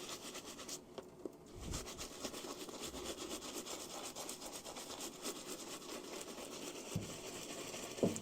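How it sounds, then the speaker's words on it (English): Leather boots scrubbed with saddle soap and a little water, giving a steady, close scratchy rubbing texture for several seconds with a few brief soft knocks and no talking. "Scrub them with that saddle soap."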